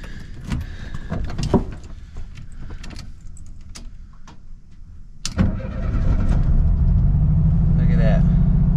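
A Crown Victoria's engine cranks over and fires up, settling into a loud steady idle after a few seconds of keys jangling, clicks and cabin handling noises, with people talking inside the car.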